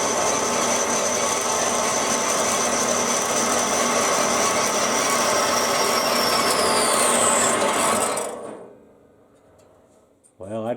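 A band saw, fitted with a brazed repaired blade, cuts a 1/4 by 3/4 inch aluminum bar stock, a loud steady whirring and grinding with a rising whine near the end before the machine winds down into quiet.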